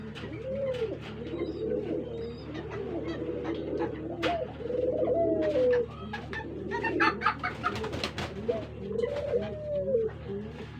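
A female spotted dove (burung puter) coos in repeated soft, throaty phrases close by, with brief pauses between calls and light rustling and clicks around it.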